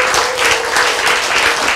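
Audience applause at a lecture, a dense, loud, sustained wash of many hands clapping at once, steady throughout with no talking.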